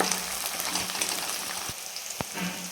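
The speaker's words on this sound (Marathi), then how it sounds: "हे सर्व साहित्य आपल्याला छान अजून दोन मिनिट चांगलं तळून घ्यायचं" Potatoes and green chillies frying in oil for poha, a soft continuous sizzle with light crackling and a couple of sharp clicks, close and fairly quiet.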